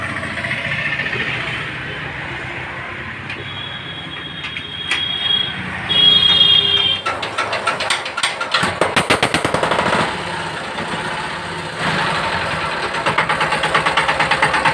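A China CD motorcycle engine is started and left running, its firing turning into a steady rapid idle with rattling, regular chugging pulses, close and fairly loud, with no talking.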